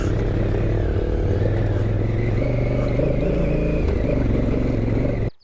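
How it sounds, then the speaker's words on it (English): Engines of many motorcycles drone and rev steadily at the busy Giant Loop Ride 12 moto event, a loud, continuous rumble layered with distant whine. "Bikes everywhere, hundreds of bikes."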